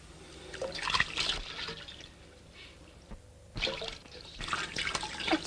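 Water poured or running into a basin in a 1940s film scene, a soft splashing trickle that swells and fades in irregular bursts.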